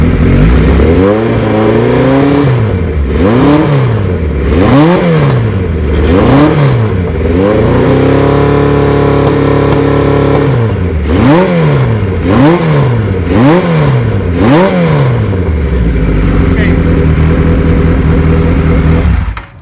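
A 1975 Kawasaki Z1900 built as a drag bike revs hard through a loud header, its engine climbing and falling in repeated sharp blips with one longer sustained pull, close and very loud.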